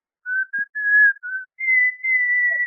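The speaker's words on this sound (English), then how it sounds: "Now, whistle." Someone whistles into a telephone, a string of clear, sustained tones in a few short bursts and then one long held note, close and alone with no talk over it.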